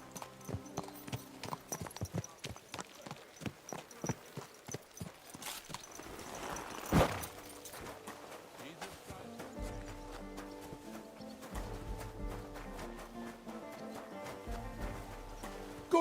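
Horse hooves clip-clop steadily in the medieval game Kingdom Come Deliverance II, a rhythmic walking gait mixed with music and other in-game sounds, with a louder burst partway through.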